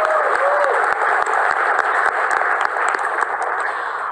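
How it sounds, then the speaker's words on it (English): An audience at a Realme 3 smartphone launch event applauds designers who won a contest, a dense, steady wash of many hands clapping that fills the whole stretch, with a faint voice briefly over it at the start. "I think we should give a big round of applause for these designers."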